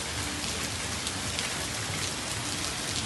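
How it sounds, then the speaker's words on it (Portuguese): Heavy rain in Paraíba, Brazil, pouring steadily onto surfaces, a dense, continuous hiss with no pauses and no voices. "Chuva, graças a Deus, muita chuva."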